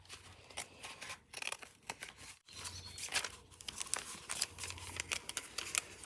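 Protective face tape being cut and handled while repairing a badly damaged cricket bat, a faint run of crinkling, ripping and snipping sounds, close up with no talk.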